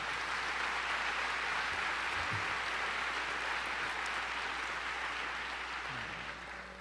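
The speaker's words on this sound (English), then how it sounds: "Please give Oscar a big round of applause for the great job that he did." Sustained, dense applause from a large audience at an address by President Obama in Estonia, steady and full for several seconds and tapering slightly at the end.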